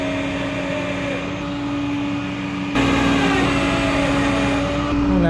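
The winch on a flatbed tow truck drones and whines steadily while it pulls a Ferrari 308 onto the bed. The mechanical hum steps up louder partway through and holds.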